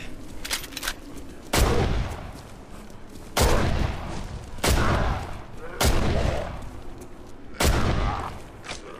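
Rifle gunfire in the horror video game Condemned: Criminal Origins, five or six loud, booming shots spaced about a second apart, each trailing off with echo.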